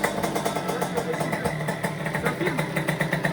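A motorcycle engine idles with a rapid, even low throb, close and fairly loud, while people talk over it.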